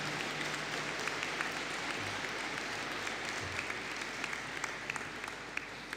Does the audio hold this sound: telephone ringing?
no